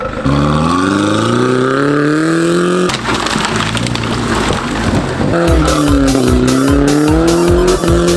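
A BMW E46 fitted with tractor tires drives off-road with a loud, straining engine that rises and falls in pitch as it revs, plus rough clattering and scraping.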